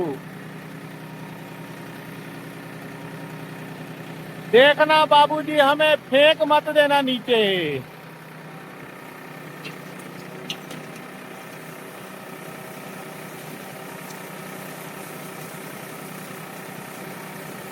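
A tractor engine rumbles low and steady throughout as the vehicle turns, while a person speaks briefly over it partway through.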